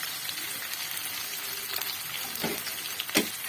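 Onion, ginger and garlic paste frying in a pan for a chicken curry, a steady soft sizzle with a few stirring scrapes near the end.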